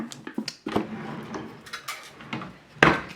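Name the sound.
antique wooden drawer opening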